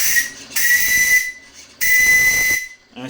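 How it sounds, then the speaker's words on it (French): On the steam launch Odette, a steam whistle gives two loud, shrill blasts over a hissing rush of steam, then cuts off sharply. "un sifflet extrêmement efficace."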